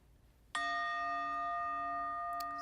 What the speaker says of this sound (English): you'll hear the bell